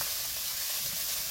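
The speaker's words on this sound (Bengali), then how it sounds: "চিংড়িটা নেড়ে চেড়ে ভেজে নিচ্ছি" Shrimp with turmeric frying and being stirred in a pan of hot oil, a short, dense, even sizzle heard up close with no talking.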